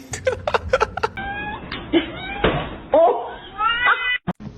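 A kitten meows and caterwauls nearby, several drawn-out cries mixed with talk and laughter and a few knocks.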